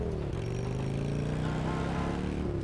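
A motorcycle engine hums steadily in the game Grand Theft Auto: Liberty City Stories, a continuous droning tone that shifts pitch slightly as the bike is ridden, loud and alone with no talk.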